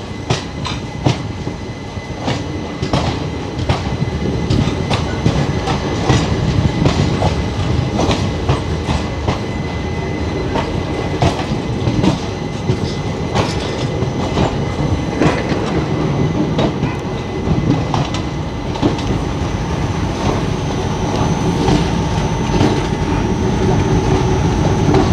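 Veerbhoomi Chittorgarh Express running on its way to Udaipur, with a steady loud rumble of wheels on rails and rhythmic clickety-clack throughout, heard close from on board with no talking.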